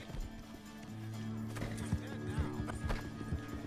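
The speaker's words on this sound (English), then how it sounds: "My horse about to run out of stamina." A horse gallops in Red Dead Redemption 2, its steady hoofbeats thudding continuously beneath a low hum of game ambience.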